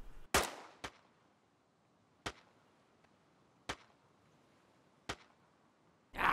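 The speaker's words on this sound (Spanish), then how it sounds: "tanto de cerca como de lejos los disparos" Sharp, loud gunshots from the video game DayZ fire one at a time, roughly a second or more apart, with a heavier burst at the very end.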